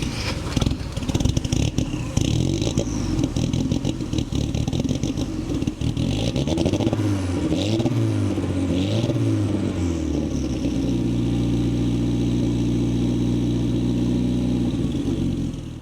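A Volvo 242 Turbo engine cranks with a clattering start, then revs up and down in several rising and falling sweeps before settling into a steady, loud idle.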